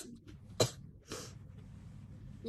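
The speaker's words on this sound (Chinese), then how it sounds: "我打喷嚏了" A woman with a cat allergy gives one sharp, close sneeze, followed by a breathy exhale and quiet room sound.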